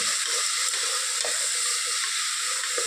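Onions sizzle and fry steadily in a hot pan with cooking oil, a dense continuous crackling hiss with occasional soft stirring scrapes, close and moderately loud, no voices.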